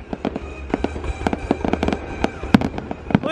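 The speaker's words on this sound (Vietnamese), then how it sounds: "Ôi mấy quả này nổ kinh phết nhỉ." New Year fireworks over Yen Bai, Vietnam, for the 2019 celebration: a rapid run of sharp, loud blasts and crackling bursts, some close and booming, with fizzing whistles between the explosions.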